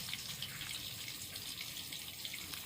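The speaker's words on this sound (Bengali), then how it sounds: "এবার আমি এর মধ্যে জল দিয়ে দেবো।" Water is poured into a bowl of ground spices (chilli powder and turmeric) for a posto-mustard potol curry, making a steady, even splashing trickle at close range with no speech over it.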